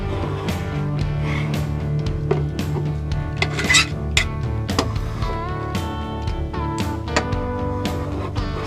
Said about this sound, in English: So just be mindful of how you're scraping the wood.